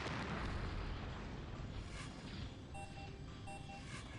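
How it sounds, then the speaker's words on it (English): Artillery fire explodes in the Shattered Galaxy strategy game, with dense, rumbling blasts overlapping into a continuous roar of booms, fairly loud and unbroken, with faint beeping interface tones toward the end. "as I continue to blast these tanks with more artillery fire."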